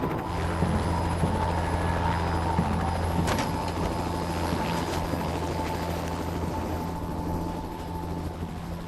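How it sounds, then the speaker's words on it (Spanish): A helicopter drones steadily throughout, its low rotor thrum and engine whine holding at a constant, fairly close level with no voices. "Subieron al helicóptero."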